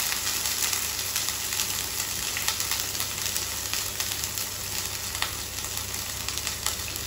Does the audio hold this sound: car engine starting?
no